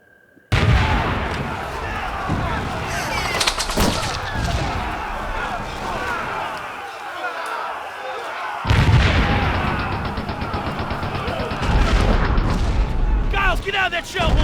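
A war-film artillery barrage roars continuously with heavy booms and gunfire crackle, loud and dense, with shouting voices mixed into the din.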